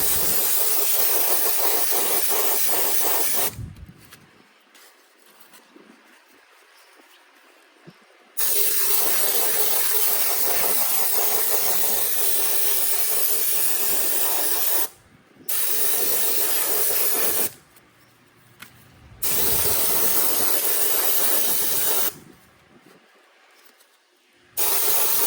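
An airbrush sprays fluorescent yellow paint onto a fishing lure blank, a loud close hiss in repeated long bursts with short quiet pauses between them.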